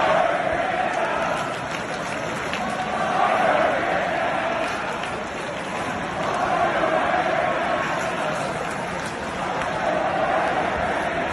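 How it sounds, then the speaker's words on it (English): A hockey crowd at Pittsburgh's PPG Paints Arena chants 'Fire Canada', the massed voices swelling and easing in waves over a steady arena din. "A little Fire Canada chants makes their way to PPG Paints Arena."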